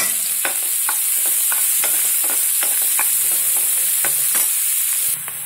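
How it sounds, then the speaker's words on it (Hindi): Chopped onions fry loudly in a pan, a bright, constant close sizzle punctuated by regular spatula taps and scrapes against the metal, with no talking. "फिर मैं इसे कटे हुए इस तरह से प्याज ला दी, इसे भी मैं फ्राई करूँ"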